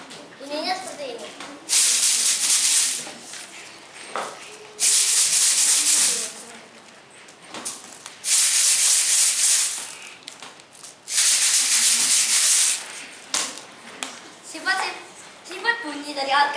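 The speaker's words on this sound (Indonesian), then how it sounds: "Bunyi yang dihasilkan dari beras di dalam botol" Rice shaken inside a bottle, four long bursts of loud, bright rattling hiss lasting a couple of seconds each, separated by pauses in which someone speaks softly.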